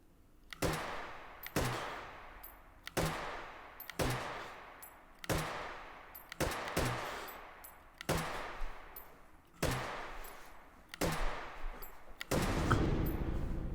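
An AKM rifle with a reflex sight fires in single-shot mode in the VR game Hot Dogs, Horseshoes & Hand Grenades: about ten loud, sharp reports spaced roughly a second apart, each with a brief echoing tail and no voices.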